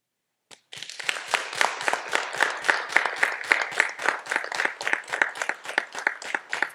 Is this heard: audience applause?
yes